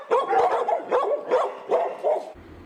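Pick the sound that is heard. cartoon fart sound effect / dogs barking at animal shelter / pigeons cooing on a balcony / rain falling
dogs barking at animal shelter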